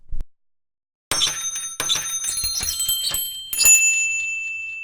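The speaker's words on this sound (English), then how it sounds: "Plastic bell tower." Plastic toy bell tower sampled from a virtual toy instrument library, ringing out in a series of bright, tinkling chimes that overlap and sustain, after a short silent gap, with a final louder strike lingering to the end.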